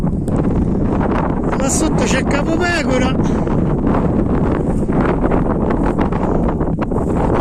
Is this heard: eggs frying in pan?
no